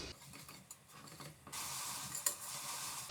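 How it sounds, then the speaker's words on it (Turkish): Onions and minced meat sizzle and crackle in a hot pan, quiet at first, then a louder, steady frying hiss with a few scrapes of stirring. "soğanımızın rengi gidene kadar iyice kavuracağız"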